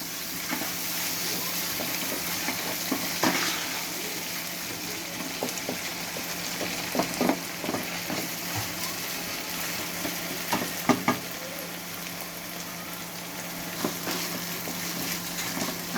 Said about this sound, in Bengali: তারপর আবার ভালো করে ভেজে নেব